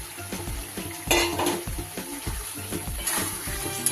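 Fried pointed gourd pieces tipped into a spice mix sizzling in released oil for a vegetarian potol rezala, giving a steady hiss of frying with a sharp burst as they land, then stirring scrapes and clinks against the pan.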